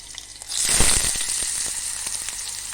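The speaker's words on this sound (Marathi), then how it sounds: "फोडणी तयार झालेली आहे त्याच्याबद्दल आपण आता हे बीट घालूया" Beetroot drops into hot tempering (phodni) for a beet salad, setting off a loud, close burst of sizzling that settles into steady crackling frying.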